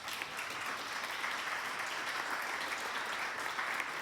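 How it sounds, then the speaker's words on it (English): Sustained applause from a city council candidate forum audience, steady clapping at moderate volume from a crowd, with no talking over it. "Let's give our candidates a round of applause."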